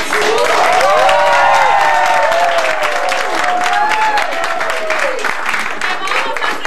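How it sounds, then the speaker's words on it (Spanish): A youth conference crowd applauds steadily and fairly loudly while a voice keeps talking on top of the clapping throughout. "un aplauso para el sur"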